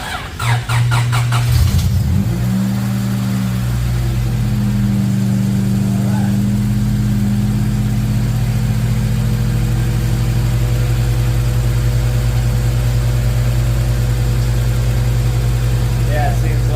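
A Honda Type R car engine cranks briefly, catches and settles into a steady, loud idle with a constant low hum, close by.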